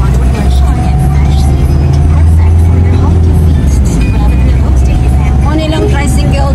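Motorized tricycles, some painted orange, drive along a city street in Butuan City, Philippines, their engines forming a steady, loud traffic rumble that continues with passing vehicles while someone talks over the noise.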